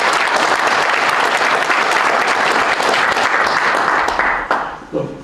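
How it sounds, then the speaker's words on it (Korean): A seated audience at a defense industry forum with the Defense Acquisition Program Administration commissioner gives loud, dense applause that holds steady before tapering off abruptly near the end. "다시 한번 뜨거운 박수 부탁드립니다"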